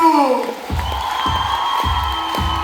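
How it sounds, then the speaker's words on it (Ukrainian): A concert crowd cheers and applauds for the Armed Forces of Ukraine, with whoops and shouts rising over a steady, close wash of clapping while a sustained musical tone plays underneath. "Оплески для ССУ!"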